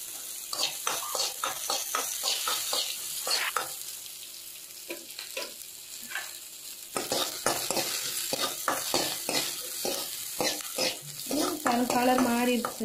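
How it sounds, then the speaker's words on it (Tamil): Onion and chilli frying in a pan, with steady sizzling broken by repeated scraping and stirring strokes of a spoon, close and fairly loud throughout, a brief rising hiss near the end. "மிளகாய் போட்டு இந்த வெங்காயத்தை போடுறேன்"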